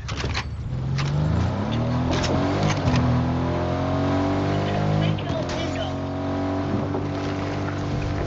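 A car engine drives and revs in Fortnite gameplay, a steady droning hum with rising and falling pitch as it accelerates, loud and continuous, with players talking over it.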